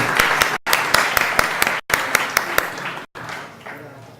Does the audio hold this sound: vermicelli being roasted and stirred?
no